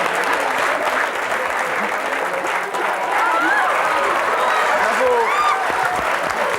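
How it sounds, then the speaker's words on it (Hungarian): A live studio audience at a podcast premiere bursts into sustained, dense applause that holds steady and loud throughout, with a few whoops rising above the clapping. "Lehet tapsolni."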